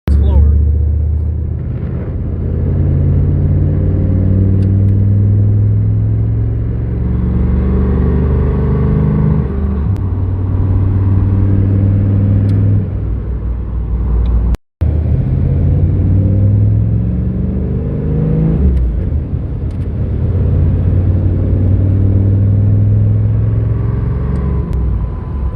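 A 6.5 diesel truck on a test drive, its engine rumbling steadily from inside the cab with low drone and rising and falling revs throughout, broken by one brief dropout midway.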